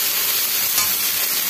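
Ridge gourd curry with salt and turmeric being stirred in a pan, a steady close sizzle and soft scraping of the spoon running through the whole short moment.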